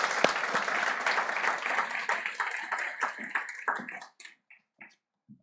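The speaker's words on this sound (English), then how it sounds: "Give her a warm round of applause." An audience at a research findings presentation applauds to welcome a panel member, a lively burst of clapping that thins into a few scattered claps and ends in silence.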